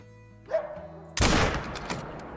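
A single sharp hunting-rifle shot cracks out in Call of the Wild on Layton Lakes, coming suddenly after quiet ambient sound and ringing off in a short decaying tail.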